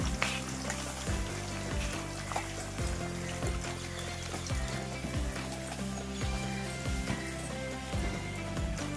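Curry leaves, dried chillies and mustard seeds fry in oil with a steady, fairly quiet sizzle and crackle, with soft pops now and then over a low background hum.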